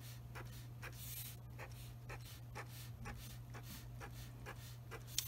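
A pen drawing short lines on paper during a second-grade math word problem, a quiet regular series of soft scratchy strokes about twice a second over a low steady hum.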